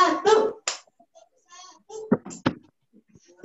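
Children clap out a short call-and-response clap rhythm in a primary school classroom, a few sharp separated claps near the microphone mixed with brief voices.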